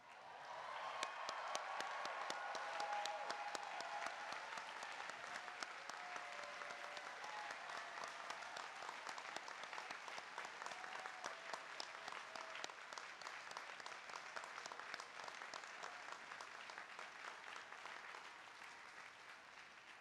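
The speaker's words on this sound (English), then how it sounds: "I ask that all parents and grandparents stand and be applauded." Sustained, dense applause fills a university ceremony hall in 2016 as parents and grandparents stand to be honored. The clapping stays steady and full for the whole stretch, with a faint murmur of voices beneath it.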